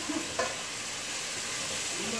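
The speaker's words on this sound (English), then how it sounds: "So I'm gonna fry it up for 2 minutes and then I'm gonna add the potato into it" Curry sizzles in a pot for a Guyanese-style fish and shrimp dish, a soft, steady frying hiss close by with a brief stir near the start.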